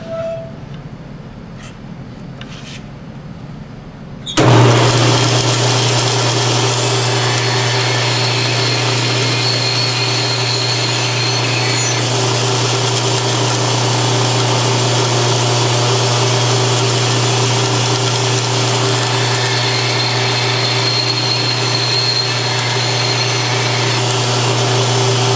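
A saw cuts through a wood block for a pen: after a few quiet seconds it starts abruptly and runs loud and continuous with a steady whine until the end.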